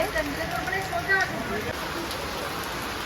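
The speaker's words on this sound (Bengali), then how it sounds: "বৃষ্টি পড়ছে" Rain falls at a bus stand under a tin roof, a soft continuous patter heard under nearby talking voices.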